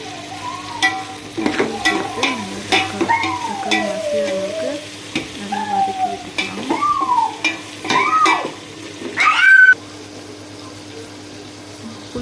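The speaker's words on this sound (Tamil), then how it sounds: "வெங்காயம் கொஞ்சம் நல்லா வதங்கட்டும்" Onions sauté in a pan for a Tamil fish curry with curry leaves, a close, steady sizzle broken by stirring and scraping of a spoon against the pan, with a sharp clatter near the end.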